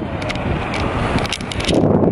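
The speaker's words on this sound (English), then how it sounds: "it's so windy out here" Wind gusts on an outdoor college campus at Mississippi State University buffet the microphone. Steady rumbling noise fills the brief moment and swells slightly at the end, with no speech.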